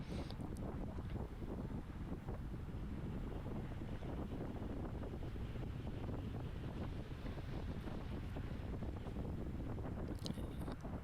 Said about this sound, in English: the wind is coming from our left. It's like a cross headwind or a tailwind